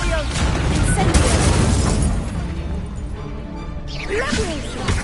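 A fire spell cast with the Incendio charm in Hogwarts Legacy, a loud bursting whoosh and crackling blast that swells then fades, with a player's voice heard over it.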